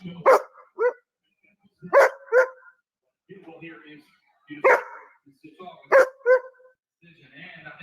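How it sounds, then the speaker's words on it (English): A dog barks in repeated two-part bursts, each bark quickly followed by a second, with short pauses between pairs; close and fairly loud, with some faint background noise between barks. "it's got a two-part bark"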